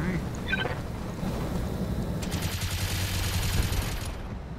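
Gunfire aimed at a mech suit in RogueTech, a steady rolling fusillade of heavy shots rumbling low and continuous, with someone talking over part of it.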